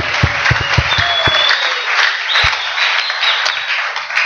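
A church congregation at a French and Lingala sermon applauds loudly: a dense, sustained roar of many hands clapping together, with a few heavy thumps at the start.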